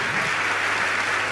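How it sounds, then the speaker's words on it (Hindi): Dense applause from an audience at a religious discourse gathering, steady and loud throughout the short burst with no gaps. "एक ताली अच्छी बजाओ तो"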